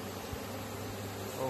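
A swarm of bees relocating, producing a steady, dense buzzing drone that fills the short stretch at a constant level.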